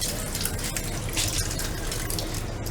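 Strong running water gushing from a sink tap at a rented cooking area near a Pangasinan beach, a steady broadband rush filling the clip without pause.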